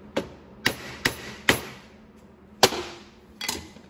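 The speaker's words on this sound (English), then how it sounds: "Take your hammer, each side of the snap ring." A hammer taps a snap ring into its groove during an E4OD/4R100 automatic transmission rebuild, about six sharp metallic strikes spaced irregularly, close and clear with short ringing decay.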